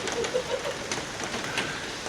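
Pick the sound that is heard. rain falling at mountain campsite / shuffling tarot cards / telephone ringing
rain falling at mountain campsite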